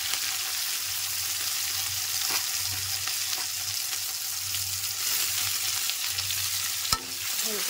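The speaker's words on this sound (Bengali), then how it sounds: "এবার আমি দিয়ে দেবো ওই তেলেতে কুঁদরিগুলোকেও" Ivy gourd fries in oil over a high flame, giving a loud, close, unbroken sizzle and hiss with faint stirring ticks and a single sharp clank near the end.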